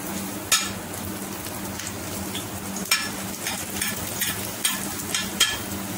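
Garlic sizzles steadily in hot oil in a pan, a constant close crackle with a few louder pops and stirring knocks scattered across it, no talk over it.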